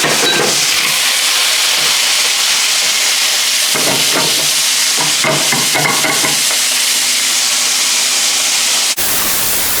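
Butter and capers sizzle in a frying pan with a loud, steady, hissing crackle and a few stirring scrapes, then stop abruptly near the end; no one speaks.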